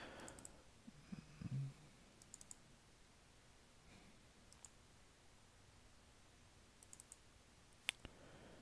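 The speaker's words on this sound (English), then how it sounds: "I'll first need to double click the folder of where everything is" A computer mouse double-clicks a folder at a quiet desk, giving a few faint, sharp clicks scattered over a low background hiss.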